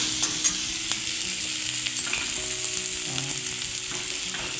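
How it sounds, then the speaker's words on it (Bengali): Spices for a mutton curry sauté in a pan, giving a constant close sizzle with occasional stirring scrapes and clinks and no talking. "মানে মশলাগুলো কষতে হবে"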